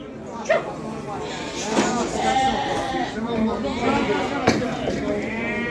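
Several lambs bleat close by at a sheep market, overlapping high wavering cries, with a brief sharp knock near the start and another later.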